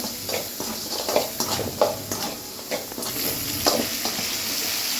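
Ingredients for a garlic kuzhambu, seasoned with salt and asafoetida, sauté in hot oil, giving a dense, continuous close sizzle with soft, rhythmic stirring scrapes.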